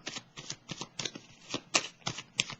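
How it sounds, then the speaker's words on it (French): Tarot cards being handled and laid down during a reading, a quick series of crisp papery flicks and soft slaps in an even rhythm, close and clear with no talking. "Je vais déposer une carte sur l'harmonie à l'envers."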